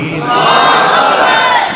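A large religious gathering shouts the takbir slogan in unison, a loud, sustained roar of many voices filling the space for nearly two seconds.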